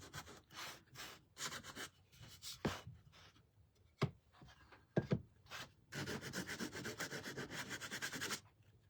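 Sandpaper rubs along the sides of a small wooden pilgrim shelf sitter to distress the edges, coming in short, uneven scraping strokes, then a longer run of quick, rhythmic back-and-forth rubbing near at hand with no voices.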